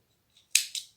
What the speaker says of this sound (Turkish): Makasımızın yardımı ile keselim.